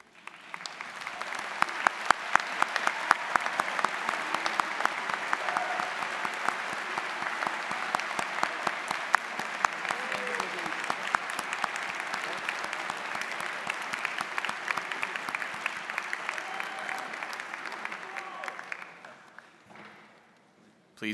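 Graduation ceremony audience applauding the class of 2023, a steady dense clapping from a large crowd that lasts about twenty seconds before tapering off.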